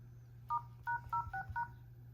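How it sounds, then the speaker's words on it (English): A T-Mobile REVVL V+ 5G phone plays a quick series of five or six crisp dialing tones, each a short separate beep, over a low steady hum in a quiet room. "Let's try to make a phone call."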